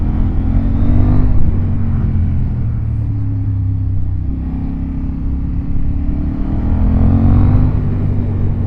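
A KTM 890 Duke motorcycle rides and accelerates, its engine note rising and falling under steady wind rumble; the sound is close and continuous, with no speech.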